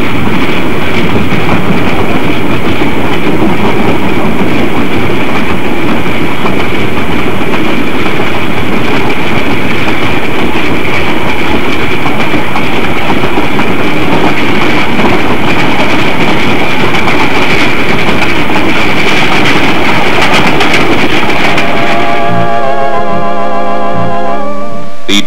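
A Denver and Rio Grande train rolls steadily along the rails, climbing into western hills, with a loud, continuous rumble and rattle, fading abruptly near the end.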